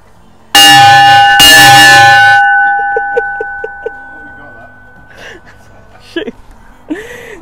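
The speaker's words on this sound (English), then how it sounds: "this was the dinner bell" A station dinner bell on a sheep-shearing station in the Eyre Peninsula rings loudly with two sharp strikes that leave a long ringing tone fading out, followed by a few soft taps and brief talk close by.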